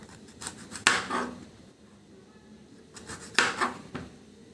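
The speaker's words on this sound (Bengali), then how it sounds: "তাই তো এখন এটা কেটে নেব সাইড থেকে।" A knife cuts into a pointed gourd (potol) from the side, giving two crisp chopping strokes with light scraping between them, close and fairly quiet.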